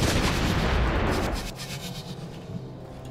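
A cannon fires in the video game Soul Axiom, a loud booming blast that rumbles and fades over about three seconds, heard alone without speech.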